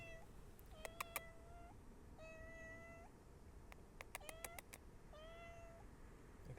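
A small cat meows several times at night, each call a clear drawn-out cry, with a few short clicks in between and steady low background noise.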